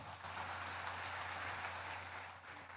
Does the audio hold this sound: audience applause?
yes